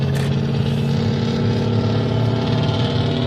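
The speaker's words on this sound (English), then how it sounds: "that truck loud as a motherfucker" A loud truck passing close by, a continuous rough engine roar filling the whole stretch at steady volume.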